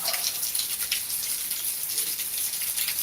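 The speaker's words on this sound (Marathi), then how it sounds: "आमच्याकडं तर भयानक पाऊस आहे बघा" Heavy rain pours down in Beed, a dense, even wash of drops hitting surfaces, close and continuous with no voices.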